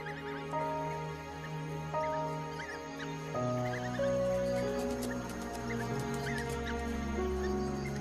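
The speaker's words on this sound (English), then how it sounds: "The pups make distinct chirping sounds and lick the mouths of the adults." Many high, squeaky chirps from African wild dog pups at the den overlap in an excited chorus over a steady tonal background hum.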